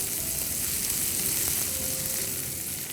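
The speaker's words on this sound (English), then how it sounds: "Let's add in the tomatoes along with some salt. And we just have to cook the tomatoes till they go slightly soft." Tomatoes with salt frying in a pan, giving a continuous, close hiss and crackle of sizzling that stays steady throughout, with faint stirring touches and no voices.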